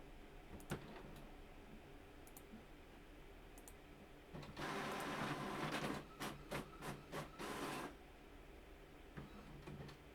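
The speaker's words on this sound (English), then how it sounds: "Just printing this off as well." An office printer prints a page, sounding as soft scattered clicks followed by a louder mechanical whirring burst and a quick run of clacks, all faint and close, with no voices.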